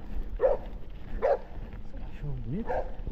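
A dog barks three times in short, separated yaps with a brief rising whine between them, fairly close, in an outdoor spot along a solo cycling route through the Vale Europeu region of Brazil.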